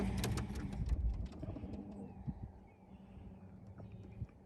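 Young racing pigeons readied for a training toss about eight miles from home, giving soft cooing and rustling close by over steady outdoor background noise, with a few brief knocks and no clear talk.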